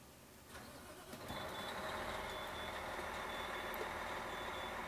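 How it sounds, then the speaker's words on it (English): A 2005 Liberty Prevost Monterey Edition motorhome at a cold start, its warning beeper sounding for low air pressure: a thin high tone holding steady over a rumbling diesel engine that catches and rises, with no voices. "It's beeping at me because the air is low."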